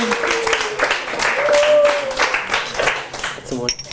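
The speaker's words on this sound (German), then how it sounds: "für das hat Tami doch einen Applaus verdient" Audience applause for Tamy during a live talk show, a crowd clapping in a dense burst, mixed with voices talking and cheering over it.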